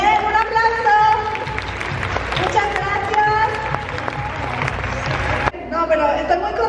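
A small audience gives a round of applause with clapping mixed under lively talk and chatter, stopping abruptly near the end before voices resume.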